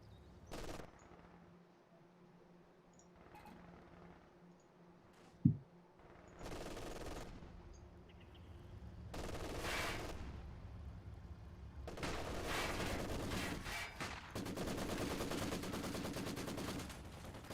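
Gunfire in Company of Heroes 2, a real-time World War II strategy game: bursts of rifle and machine-gun fire, one sharp close crack, then a long dense stretch of rattling fusillade near and far.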